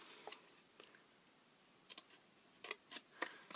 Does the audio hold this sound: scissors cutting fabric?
yes